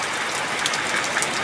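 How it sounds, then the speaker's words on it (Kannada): Steady rain falls outdoors on a farm where crops are left to dry, a dense, even hiss of drops with a few brighter patters, heard alone without voices. "ಇವತ್ತರ ಕಾಣತೈತಿಲ್ರಿ ಫ್ಯಾಮಿಲಿ ಮಳೆ ಬರೋದು"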